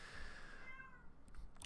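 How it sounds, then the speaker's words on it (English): A house cat meows in a drawn-out, complaining cry, close and fairly clear over a low background hum, followed by a few faint clicks at the end. "My cat is upset."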